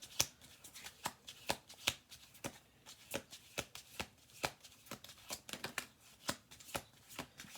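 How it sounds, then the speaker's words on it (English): Deck of cards shuffled over and over at close range, a steady series of crisp riffling and tapping bursts, quiet and without talk. "And 1 more shuffle through."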